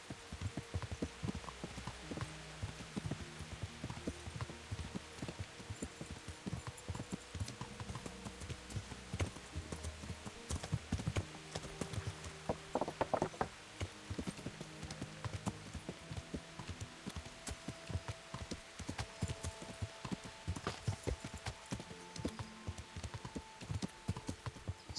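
Horse hooves clip-clop steadily throughout a video game, with a continuous trotting rhythm over game music and background sounds, no talk.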